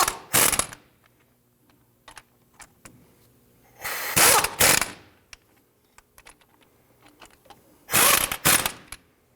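Bolts on a Jeep Grand Cherokee steering knuckle are run down with a ratchet in three short, quick bursts of clicking, spaced a few seconds apart, close by with quiet pauses between.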